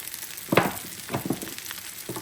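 Seasoned food fries in a pan with salt and black pepper, giving soft, close sizzling with several brief louder crackles and stirring scrapes over a quiet hiss.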